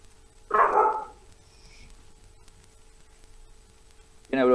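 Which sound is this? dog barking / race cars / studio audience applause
dog barking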